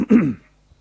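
A single short cough or throat-clear, close and abrupt, followed by near silence.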